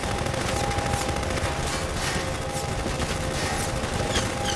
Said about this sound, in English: Quit firing on me.